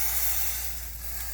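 Browned quinoa sizzles in a hot pan, a steady close broadband hiss that holds level through the whole short moment, with no voices.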